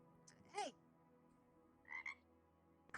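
A frog in a VR roleplay game gives two or three loud, short croaks that rise and wobble. They come in separate bursts with quiet gaps, and there is no talking.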